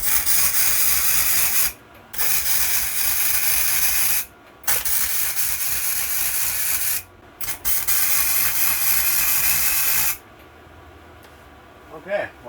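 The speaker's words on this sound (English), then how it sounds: "I've got this welder turned right up." A Forney Easy Weld multi-purpose welder turned up near its hottest setting crackles and hisses in long steady bursts, separated by short pauses, loud and close. Work is on an Arctic Cat DVX 400 build.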